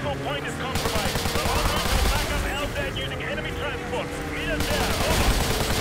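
An automatic pistol fires during a snowmobile escape in Call of Duty Modern Warfare 2 Remastered, in quick steady bursts of shots over engine roar and game noise.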